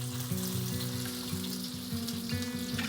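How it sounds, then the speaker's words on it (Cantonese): Tofu pan-frying in oil for braised tofu and roast pork belly, a close, steady sizzle and crackle that carries on unbroken, with faint background tones and no talking. "我就開始煎個豆腐噶啦"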